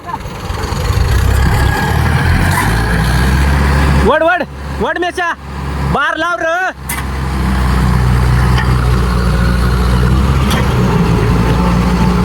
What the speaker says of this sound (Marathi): वो ट्रैक्टर उस तरफ खींच रहा है